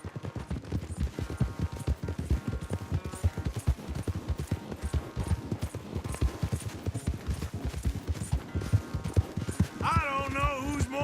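Horses gallop hard in a race in the Red Dead Redemption 2 video game, with rapid, loud, continuous hoofbeats and a horse's whinny near the end, while voices are heard over the running.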